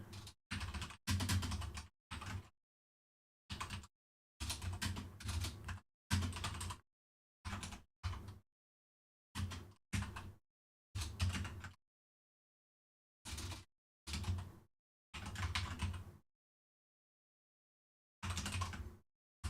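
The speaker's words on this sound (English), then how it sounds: "I'm just typing it out." Bursts of close-up computer keyboard typing while code is written, rapid clicky runs broken by frequent silent pauses of varying length.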